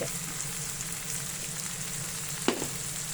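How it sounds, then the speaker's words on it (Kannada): Onions frying with turmeric in a pan for a spinach sabji, a gentle, continuous sizzle at low level with a single brief clink of utensil midway. "ಈಗ ಒಂದು ಟೂ ಮಿನಿಟ್ಸ್ ಫ್ರೈ ಮಾಡೋಣ ಈಗ ನೋಡಿ ಈರುಳ್ಳಿ ಬೆಂದಿದೆ"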